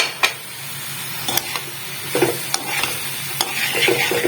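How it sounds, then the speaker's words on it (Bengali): A spoon stirs pumpkin and soaked chickpeas in an oil-free pan, giving scattered scrapes and soft clatters over a quiet, faint sizzle. "এবার আমি একে একে কুমড়ো ও ভেজানো ছোলা মিক্সড করে দেবো।"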